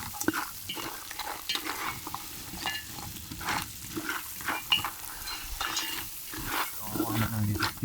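Spicy curry crabs fry in a pot outdoors on a Jamaican beach, a continuous sizzle broken by repeated scraping and clattering as the pot is stirred, with occasional voices faintly in the background.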